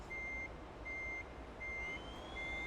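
A Renault E-Tech T electric truck reverses in Euro Truck Simulator 2, with its reversing alarm giving steady, evenly spaced beeps over a low, quiet hum.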